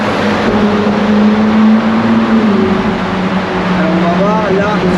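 A Ferrari 458 Spider engine idles while warming up, producing a loud, steady low rumble with a faint rising whine near the end. Someone talks over it.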